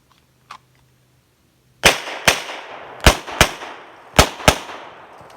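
Six sharp pistol shots ring out at targets in a shooting class, arriving in three quick pairs with short echoing decays, loud and close, after a brief quiet start.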